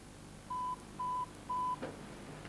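A telephone line gives three evenly spaced dialing tones, each about a quarter second long, followed by a faint click against a hissy background with no voices.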